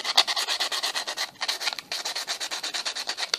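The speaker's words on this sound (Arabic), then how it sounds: "نمسح بقى ايه، نصنفر كده بسرعة." Quick back-and-forth sanding strokes on a knife tang being prepared for regluing into its handle, a steady rhythmic rasping run of many close, loud strokes with two brief pauses and no talk.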